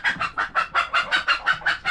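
A hen that has just laid an egg clucks in a quick, steady series of about a dozen short, sharp calls, close by and fairly loud, with no talking.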